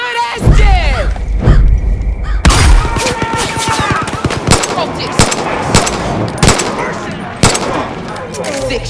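Gunfire in the video game Far Cry 5, loud rapid bursts and sharp single shots with impacts and thuds in a combat scene, close and dense throughout.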